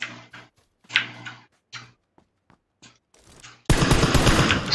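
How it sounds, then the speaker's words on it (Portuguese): Gunfire in the battle royale game PUBG Lite: a few sparse single shots and clicks, then a sudden loud sustained burst of rapid fire at the end. "Sou eu dando tiro pra chamar bot."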